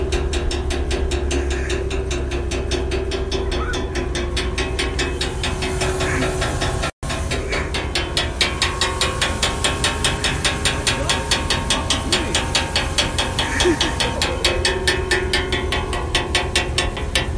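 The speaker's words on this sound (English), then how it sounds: "Fucking motor, dude." A motor runs with a fast, steady mechanical clatter and hiss, close and continuous, briefly cut off near the middle before resuming.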